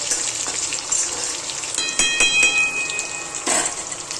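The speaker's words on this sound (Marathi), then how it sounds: "हे सगळं तेलामध्ये आहे ना चांगलं परतवून घ्यायचं" Peanuts, cumin and mustard seeds frying in hot oil for village-style dalimb pohe, a close steady sizzle with scattered sharp pops and crackles throughout.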